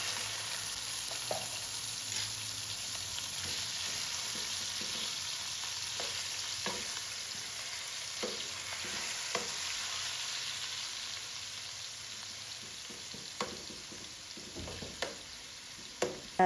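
Chicken fries in butter, white oil and a little Arabic ghee in a pan, a soft steady sizzle held low in the background with occasional stirring scrapes and a few sharper pops toward the end.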